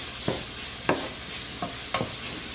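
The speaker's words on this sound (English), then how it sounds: "When those herbs hit the heat, oh, it smells so good." Herbs for a pork ragu stirred in a hot pan, with a steady soft sizzle under four or five distinct scraping stirs spaced about half a second to a second apart, close and moderately quiet.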